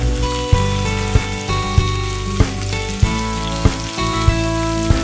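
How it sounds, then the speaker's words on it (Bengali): Round sabudana pitha fry in hot oil in a pan, giving a steady, close sizzle broken by regular soft taps and pops over a faint tonal background. "তেলটা গরম হলে আমি এরকম গোল গোল করে পিঠাগুলো ছেড়ে দিব তেলের মধ্যে"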